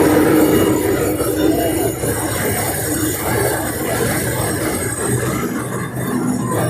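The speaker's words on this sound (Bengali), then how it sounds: "মেশিনের মধ্যে চাল দেওয়া হয়েছে ও আস্তে আস্তে চাল মেশিনের মধ্যে প্রবেশ করছে" A puffed rice (muri) making machine runs loudly as rice grains feed slowly into it, a dense continuous rattling, grinding roar with metallic clinks throughout and no pauses.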